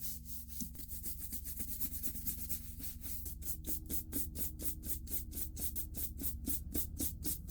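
Stiff bristles scrub across leather boots to clear surface dirt, a quick run of rhythmic brushing strokes that speeds up into evenly spaced, close scratchy swipes over a low steady background hum.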